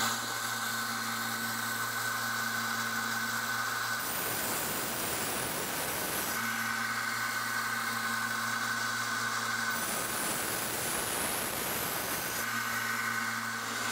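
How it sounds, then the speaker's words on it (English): A belt grinder with a constant motor drone, working a kitchen knife edge on the slack part of the belt. Two long rasping bursts of grinding come and go as the blade is pressed on. "as I'm grinding, I'll just work the edge again so the belt is moving down"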